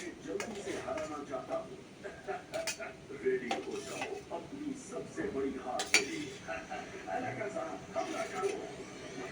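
Fried eggplant pieces dropped into a bubbling hilsa fish curry in a home kitchen, with scattered clinks of a utensil against the pot and soft sizzling, close by and fairly quiet.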